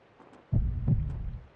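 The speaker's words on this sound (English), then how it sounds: "Hear that heartbeat?" A heartbeat sound effect from the Yakuza 5 video game on PS3 starts abruptly after a brief near-silence, then keeps thumping as a deep, muffled, close throb, with no talk over it.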